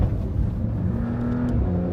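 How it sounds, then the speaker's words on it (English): A Porsche 911 Dakar on its wheel and tyre package makes a launch-control start on tarmac, its engine a loud, continuous, close drone that holds steady throughout with no voices. "It has a launch control, but it has a recalibrated launch control."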